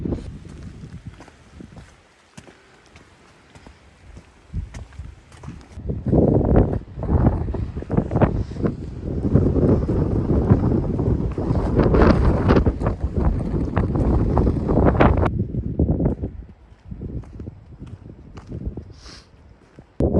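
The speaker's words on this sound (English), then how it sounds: "Wind is really kicking on this side of the mountain." Strong wind on a mountainside in the Dolly Sods Wilderness roars and gusts against the microphone, rising to a heavy rush before easing off, with faint footsteps beneath it.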